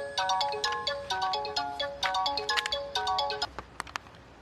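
A mobile phone plays a bright, looping melodic ringtone, loud and close, repeating its tune steadily for several seconds with no talk over it.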